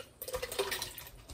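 Chicken pot pie filling pours from a container in a short, wet, sloshing burst lasting just over a second, close and fairly loud.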